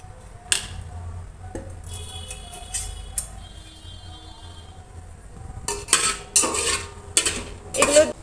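A pan of chopped onions frying in a little oil, heard as sharp metal clinks and scraping stirs, some scattered and then a busy cluster near the end, over a faint background sizzle, with no voices.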